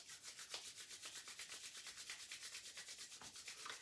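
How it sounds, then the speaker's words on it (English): Palms rubbed briskly together during a guided breathing and relaxation practice, a steady rhythmic swishing friction of about a dozen strokes heard close and alone, with no talking. "give your hands a good rub"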